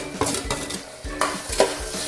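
A spoon stirring tomato and salt in a frying pan, with repeated scraping strokes against the metal over a soft sizzle, close and clear with no talking.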